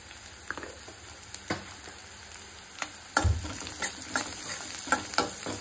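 Onions fry with turmeric in a pan, a soft, steady sizzle broken by irregular scrapes and clacks of stirring, fairly close, with no talking.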